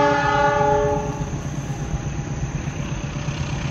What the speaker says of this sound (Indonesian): pukul 8 lewat 38 menit, kereta api Pangrango akan melintas di area ini.